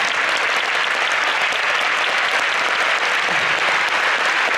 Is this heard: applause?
yes